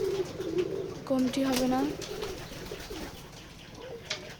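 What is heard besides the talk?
pigeons cooing in a loft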